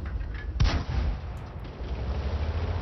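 A single booming cannon shot from an M4A3E8 Thunderbolt VII tank in World of Tanks cracks out over a constant low engine rumble, followed by a brief fading echo.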